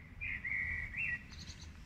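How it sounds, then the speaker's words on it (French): A blackbird sings a sustained, fluting warble with brief higher notes near the end, clear but somewhat distant over a low background hum, with no voices. "Il y a un merle qui a visiblement beaucoup de choses à raconter."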